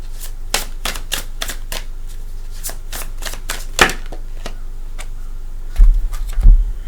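Tarot cards are shuffled and drawn in a psychic reading, giving a series of crisp riffling snaps at an uneven rhythm, then a few soft thuds as cards land near the end, close and without talk.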